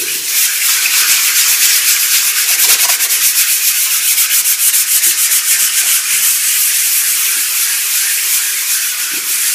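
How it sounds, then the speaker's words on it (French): A power sander fitted with 120-grit sanding discs runs continuously on a surface, making a loud, steady, hissing rasp with a faint rapid pulsing throughout and no speech. "Donc là, on va poncer."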